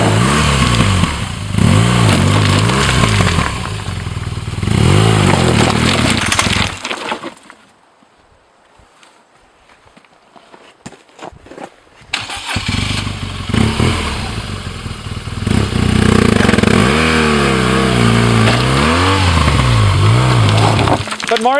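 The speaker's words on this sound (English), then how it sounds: "But Maurice, you're pulling the front brake while you're trying to go." A motorcycle on a ride through northern Namibia revs and strains hard, its loud raw engine roar dropping to near silence midway before surging again.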